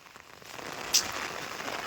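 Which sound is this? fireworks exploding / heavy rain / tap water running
heavy rain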